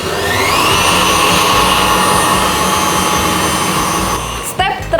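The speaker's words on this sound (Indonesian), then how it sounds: "Kita mixer lagi sampai nggak ada tepung yang kelihatan." A KitchenAid stand mixer whirs loudly and steadily while beating thick fruit cake batter, then winds down near the end with a brief clatter.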